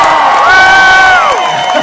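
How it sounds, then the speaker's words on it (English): A crowd at a Sounders FC event cheers loudly and shrieks with excitement, high children's voices sustaining a rising and falling cheer close by for nearly two seconds. "Give them both a huge round of applause."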